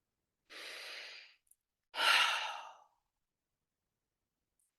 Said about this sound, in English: And just breathe.